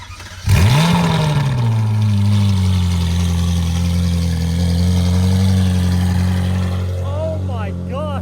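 A Ferrari 458 Speciale Aperta engine barks to life loudly, then holds a strong, steady idle with a deep drone throughout, with a voice speaking briefly near the end.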